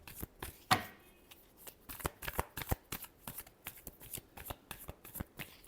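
Tarot cards are shuffled close up in quick, crisp bursts of riffling and snapping, with short uneven pauses between handfuls.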